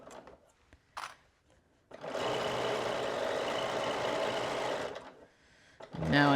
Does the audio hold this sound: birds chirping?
no